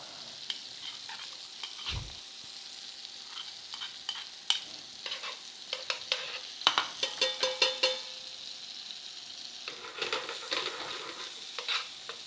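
Butter and garlic sizzle in a pan ahead of searing sea scallops, a soft steady hiss broken by bursts of sharp crackling pops and a single low thump.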